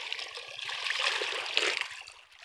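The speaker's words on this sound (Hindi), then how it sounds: "ये देखिए, ये रहा, ये निकल रहा पानी" Irrigation water flowing into a wheat field, heard as a steady hissing, splashing rush that stays loud and close, with a faint rhythmic engine-like pulse beneath it.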